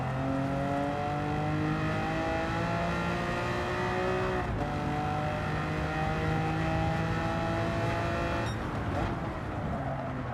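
Lamborghini race car in Gran Turismo 7 lobby racing, a loud engine droning with rising and falling pitch through gear changes, steady and close throughout.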